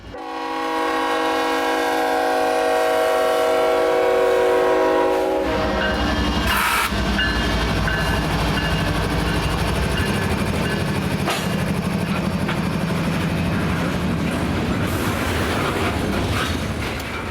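A train rolls through a railroad crossing near a rail yard in Columbus, Ohio, its loud horn blaring first, then a steady close rumble and clatter of cars passing continuously.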